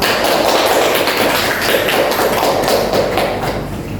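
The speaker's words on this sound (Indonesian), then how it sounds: "Silahkan berikan aplaus." A seminar audience applauds after a group presentation, a dense, loud patter of many hands clapping steadily throughout before easing slightly at the end.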